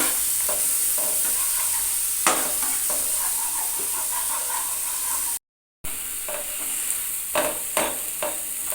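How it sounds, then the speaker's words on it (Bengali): Masala with garlic and ginger paste stirred and fried over a low flame for an egg omelette bhurji, producing close sizzling hiss with frequent spatula scrapes and a brief silent break midway. "আদা বাটা এইবার সমস্ত কিছু দিয়ে ভালো করে কষিয়ে নিতে হবে যতক্ষণ না মশলা থেকে তেল ছেড়ে যাচ্ছে"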